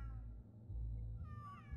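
Cats meow in a cat kennel inside the South Park video game, a single faint, brief meow over a low background hum.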